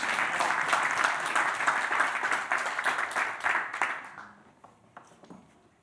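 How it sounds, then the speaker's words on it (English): A conference audience gives a bank presenter a big warm applause: dense, steady clapping for about four seconds that thins into a few scattered claps and fades out. "So Eva, with that, big warm applause for Eva on stage."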